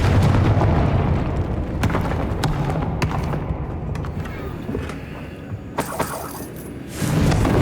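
A Confringo blasting spell goes off in Hogwarts Legacy, a series of booming explosive impacts and crackling bursts over a rumbling low background, with a sharp bright burst near the end.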